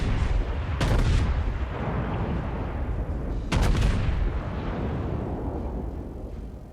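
Heavy battleship main guns of the USS Texas fire in a naval warfare game, with two loud booming salvos a few seconds apart, each trailing into a long rumbling roar.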